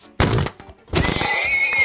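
A horse in the Minecraft video game screeches and whinnies as it is killed, two loud bursts of distressed noise with a short gap between them.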